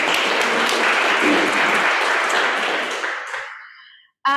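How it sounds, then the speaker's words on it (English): An audience at a city meeting bursts into loud, dense applause that holds strongly, then fades away over a few seconds and stops, followed by a short tap or ping. "let's give them a round of applause for today for coming back"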